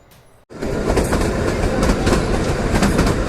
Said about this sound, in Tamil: அந்த நேச்சுரல் ட்ரெயின் சவுண்டை கொஞ்சம் கேளுங்க நீங்களே.